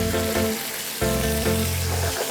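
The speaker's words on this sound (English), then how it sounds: "Keep stirring. Prawns get cooked very fast" Prawns fry in a hot pan with salt and pepper, a loud, close, steady sizzle with a brief surge as they are stirred, no voices over it.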